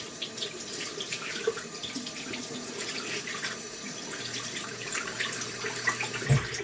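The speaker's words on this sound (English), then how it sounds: "So I'm going to dampen my sponge." Water runs from a tap into a sink, a steady close splashing flow for several seconds while a makeup sponge is dampened.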